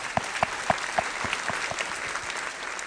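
A studio audience on a Kannada TV reality show claps for a contestant, a fairly soft, steady rhythmic beat of claps in even pulses with a low crowd murmur underneath.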